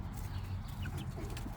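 A few young chickens in a mini chicken coop cluck softly and close by under a steady low background hum.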